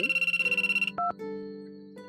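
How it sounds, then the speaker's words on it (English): A cell phone rings inside a visual novel game, sounding as a bright electronic ringtone with rapid pulsing tones that change to a steadier chime pattern, clear and alone with no talk. "My cell phone rang."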